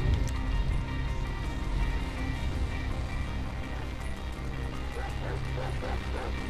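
A dog in Grand Theft Auto V barks in short, quick yips over a busy, dense game soundscape with rumbling background noise, with the barks clustering toward the end.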